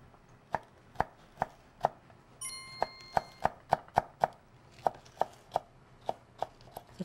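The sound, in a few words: chopping vegetables with a knife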